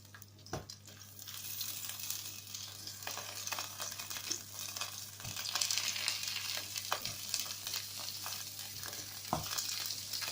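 Pieces of fish sizzling in a hot pan for a quick three-fish pasta, a steady bright crackle with a few sharp clicks of utensil contact, continuous and close with no talking.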